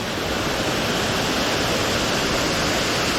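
Holcomb Creek Falls pours in a constant, loud, close roar of rushing water, a dense unbroken wash of noise with no voices over it.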